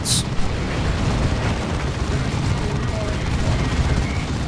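A Blastmaster heavy sonic weapon fires in Warhammer 40,000: Dawn of War 2, a sharp blast at the start followed by a steady, dense rumble of battle noise with explosions and gunfire throughout.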